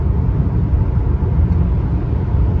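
A car driving on an open road out of town on an overcast day, a loud, continuous low rumble of engine and tyre noise heard from inside the vehicle.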